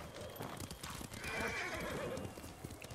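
Horse hooves clip-clop as the horse approaches, with a whinny in the middle, from the video game Ghost of Tsushima, heard close against game background sound, with no talk.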